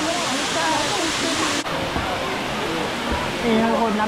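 Steady, loud roar of water pouring down the first tier of Erawan Falls in Thailand, a continuous broadband rush filling the whole clip with no break.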